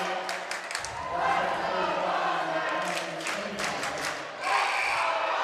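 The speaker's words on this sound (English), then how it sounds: "And a great Wasatch crowd here is making their presence felt." Home crowd noise from Wasatch fans at a girls high school basketball game, a steady roar of voices and cheers with whistles and shouts throughout, swelling near the end.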